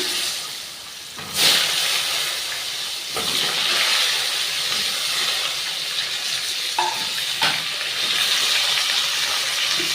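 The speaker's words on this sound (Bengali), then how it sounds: "ফোড়নটা ভালো গরম হয়ে গেছে এবার আমি আলু ছেড়ে দিলাম" Potatoes dropped into hot oil with tempered spices hiss into a loud, steady sizzle, rising sharply near the start and staying a dense frying hiss throughout, with a few stirring clatters.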